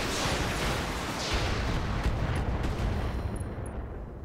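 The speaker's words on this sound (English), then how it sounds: "I'm gonna fire on this guy, I'm gonna target the leg, and let's just fire everything" Weapons firing at a target in the video game Roguepoint, a dense, loud barrage of gunfire and blasts that runs continuously for several seconds without pause.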